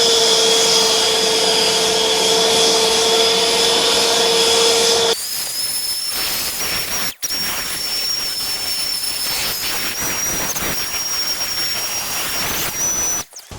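A handheld garden leaf blower roars close by while clearing stepping stones, a loud steady whine with a high tonal pitch, then shifting to a lower, rougher rushing blast that continues with a brief dip.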